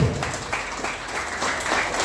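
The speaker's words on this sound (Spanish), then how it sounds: "Fuerte, fuerte los aplausos." Guests at a quinceañera celebration in Livingston, Guatemala clap loudly, a dense wash of many hands applauding at a steady, close level.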